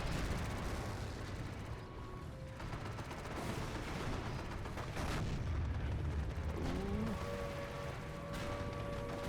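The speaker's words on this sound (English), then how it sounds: "AT gun's chipping away at it. AT gun is also chipping away at this IS-2. Zrini is also firing." Gunfire from a Zrini assault gun and an anti-tank gun in Company of Heroes, a WWII strategy game battle against an IS-2 tank; dense, continuous booming shots and impacts roll through the whole stretch with no voices.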